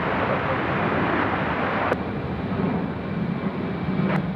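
An airliner takes off from a runway at Sydney Airport, a loud, broad engine roar that stays steady and close throughout, with a couple of sharp clicks partway through.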